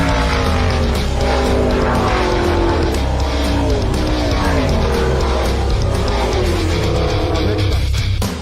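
Stock car engines roar at Pocono Raceway, a loud, continuous mechanical drone with shifting pitch and occasional tire squeal, dense and close throughout with no speech.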